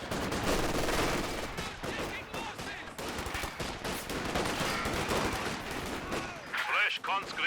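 Machine guns rattle in the Company of Heroes 2 video game, a dense, continuous burst of rapid automatic fire mixed with scattered explosions and gunshots throughout, loud and close.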